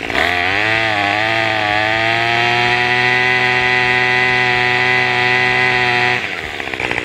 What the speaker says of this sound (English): then it should be able to run wide open, no problem, once I hit the throttle